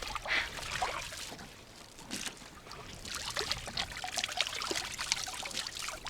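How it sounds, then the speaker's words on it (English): Shower water running steadily in a bathroom, a continuous broadband splashing hiss with small fluctuations, fairly close and alone without talk. "look, I'm showering now"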